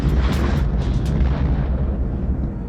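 A loud, deep explosion from the 1979 Mad Max film footage, a heavy booming blast with sharp cracks early on that rolls into a long rumbling decay.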